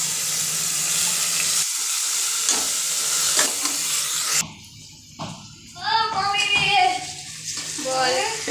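Fried onions sizzle loudly in a pan as spices, ginger and garlic go in, with stirring scrapes and a burst of hissing steam partway through while people talk nearby.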